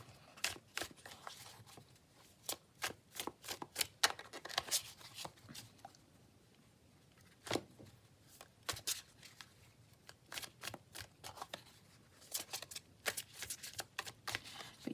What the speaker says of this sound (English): they shuffle quite nicely and they smell great